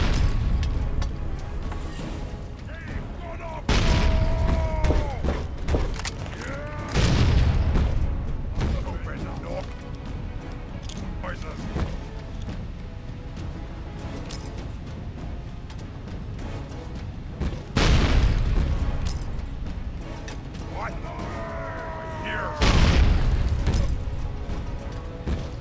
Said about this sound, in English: toss some grenades